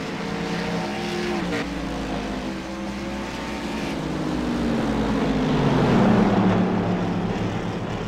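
Race cars roar around the track in a racing video game, with engine tones rising and falling as they pass close by, loud and continuous.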